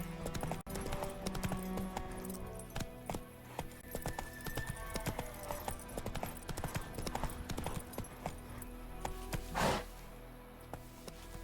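Roach, a horse in The Witcher 3, gallops in steady rapid clip-clop hoofbeats, close and fairly loud, with a brief louder burst near the end and occasional faint voices.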